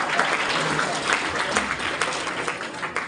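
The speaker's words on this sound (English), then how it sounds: "Please clap for him." A school morning-assembly crowd applauds a student for a correct quiz answer, dense steady clapping from many hands filling the room for a few seconds, with a voice faintly heard beneath.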